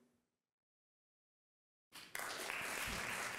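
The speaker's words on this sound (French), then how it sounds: "Et on peut donc applaudir bien fort Dorothée, Flora, Jean-Baptiste et Kevin." An audience at the Nuit du Droit 2023 law conference breaks into applause after nearly two seconds of silence. The clapping starts abruptly, then swells into a loud, steady wash of many hands that continues to the end.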